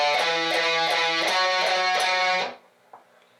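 Distorted electric guitar plays a riff, with quick repeated picked notes in an even chugging rhythm, loud and close, then cut off and fading to near silence.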